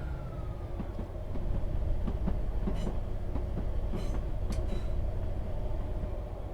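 Class 158 diesel multiple unit running on the Midland Main Line near Leicester in Train Sim World 4, with a steady low rumble and repeated rhythmic clicks of wheels over rail joints, loud and continuous with no talk.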